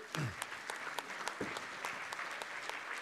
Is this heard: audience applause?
yes